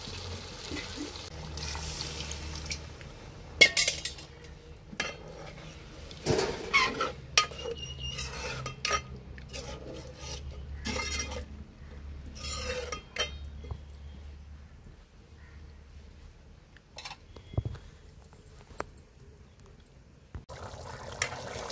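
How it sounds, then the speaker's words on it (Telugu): Water is poured into a pan of egg and raw prawn curry amid a long stretch of scraping, stirring and clinking of utensils against the pot, with quiet gaps between bursts. "ఇప్పుడు ఈ కూరలో సరిపడా నీళ్ళు పోతారండి."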